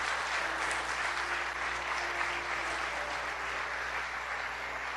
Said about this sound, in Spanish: Dale un fuerte aplauso, Señor, en esta hora.